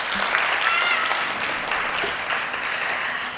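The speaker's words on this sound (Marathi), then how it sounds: "आपण एकदा जोरदार त्याच्यासाठी टाळ्या वाजवूयात." Steady, dense audience applause for a Bharatanatyam dance performance, a full crowd clapping loudly and continuously throughout without a break.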